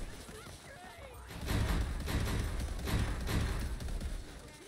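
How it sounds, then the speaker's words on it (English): Automated turrets fire in the fantasy shooter Tiny Tina's Wonderlands as a dense, continuous barrage of rumbling blasts that swells and holds for several seconds, with players talking over it. "time to turn on the turrets"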